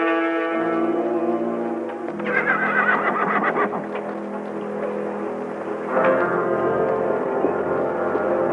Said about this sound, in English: get the horse